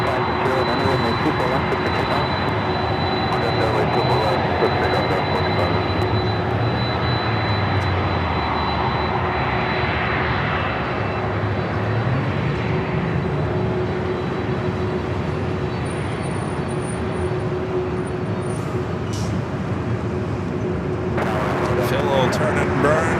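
Airliner on final approach to runway 24 Right at Los Angeles International Airport, a steady broad engine roar holding throughout, with a faint radio voice from air traffic control audible under the noise.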